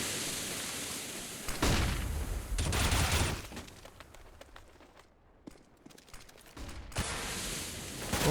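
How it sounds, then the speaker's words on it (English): Rapid automatic sniper rifle fire in a Counter-Strike: Global Offensive match on the Train map, bursts of sharp shots mixed with game noise, moderately loud with a quieter lull in the middle. "sprays like crazy with that auto sniper that he's got in hand"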